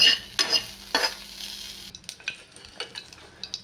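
Food frying in a little oil in a pan, with a sizzle and sharp scrapes of stirring at first, then lighter intermittent taps and stirs as the sizzle fades.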